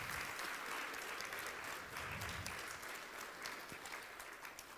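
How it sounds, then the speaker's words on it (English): Conference audience applauding at a feminist peace gathering in the Western Balkans, a sustained wash of many hands clapping from a roomful of people, steady and moderately distant throughout. "So a big applause for everyone."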